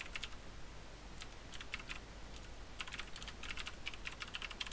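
Keys clatter on a computer keyboard while typing in the Emacs editor, bursts of quick clicks in uneven runs over a steady low hum, fairly quiet and close, with no voices.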